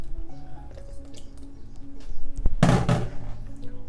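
Eggs drop into chocolate cake batter with a brief wet squish and thunk partway through, close and fairly loud against faint kitchen background.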